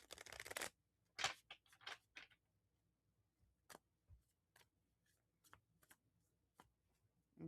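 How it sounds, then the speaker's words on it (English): Tarot cards shuffled by hand in a quiet room, a long riffling burst at the start and then sparse, crisp card snaps and taps spaced through the rest, close and fairly soft. "Let me shuffle it just a quick little bit."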